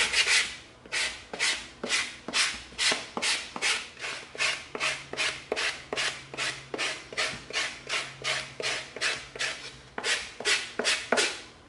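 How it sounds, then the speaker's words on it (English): Coarse 80-grit sandpaper is rubbed along the side of an EVA foam blade in a steady series of about two dozen rhythmic, close strokes, each a loud scratchy swish with brief pauses. "now we're gonna get a little bit of this bandsaw stuff off of the side with our 80 grit"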